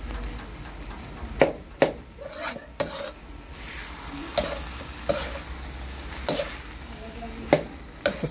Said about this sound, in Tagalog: Igisa mo na yung munggo.